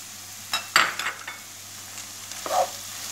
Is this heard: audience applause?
no